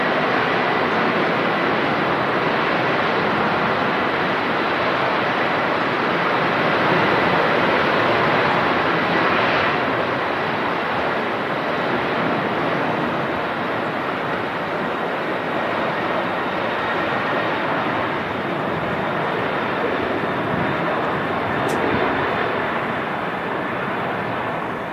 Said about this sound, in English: Really feel the rumble from here. The 330 with Aer Lingus.